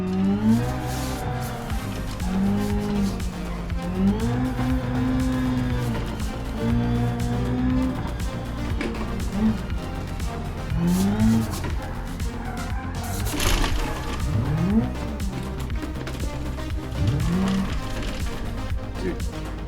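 Tires squeal in long wavering howls as a drift car slides sideways on a touge mountain road in BeamNG.Drive, engine droning underneath, with a voice talking over the repeated skids.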